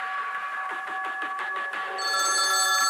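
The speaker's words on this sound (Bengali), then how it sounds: "ওই নাম্বার থেকেই কল আসছে।" A mobile phone rings steadily with an incoming call for the whole stretch, the tone getting louder and brighter partway through, with no talking over it.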